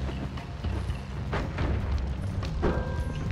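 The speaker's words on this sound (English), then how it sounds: "What am I doing running away from the bombs?" Bombs go off in the roguelike game Noita as several muffled, fairly faint booms and thuds over a low rumbling backdrop, with no talking.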